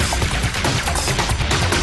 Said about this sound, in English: we have this cannon and we shoot boards through walls